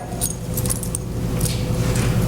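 Car keys jangle in a live stage play, with a metallic clink and rattle in short bursts over a steady low background rumble.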